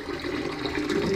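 Water rushing steadily through a dump hose while a radiator central heating system is flushed through a Magnaclean filter with cleaning chemicals, a continuous close hiss and gurgle with no talk.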